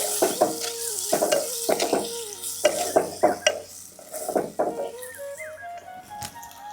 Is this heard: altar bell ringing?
no